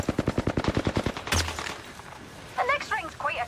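Rapid automatic gunfire in Apex Legends, a fast close burst of about fifteen evenly spaced shots over roughly a second, then a heavier boom and fading tail, with voices talking afterward.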